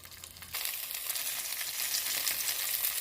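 Garlic and ginger sizzle in hot oil in a pan while beef short ribs are being braised. A steady, bright hiss rises suddenly as the aromatics hit the pan and holds loud and even, with no voices.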